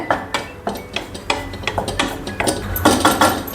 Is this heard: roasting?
yes